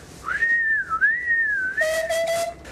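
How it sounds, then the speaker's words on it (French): A steam threshing machine's whistle, a clear, loud single tone that wavers and glides in pitch, then drops to a lower, steadier note held for about a second. "le propriétaire de la batteuse accélérait le sifflet"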